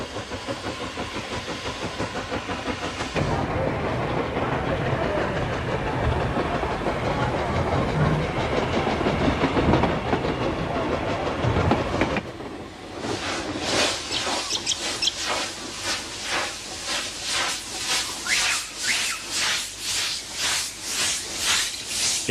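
A Pichi Richi Railway train runs along its century-old line through the Flinders Ranges, first a loud sustained rumble and hiss, then a rhythmic clickety-clack of wheels over rail joints, close and continuous.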